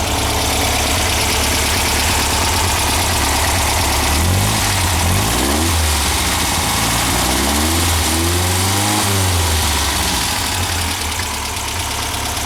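An air-cooled Volkswagen engine idles steadily and close by at about 1,000 RPM with low oil pressure, a low continuous hum with a few mild swells in pitch partway through, and no voices.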